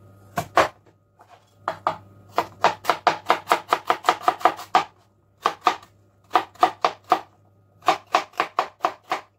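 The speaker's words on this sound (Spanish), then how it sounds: "Voy a cortar un poco." Knife chopping carrot and other vegetables on a board, crisp close strikes in quick bursts of rapid even taps separated by short pauses, no voices.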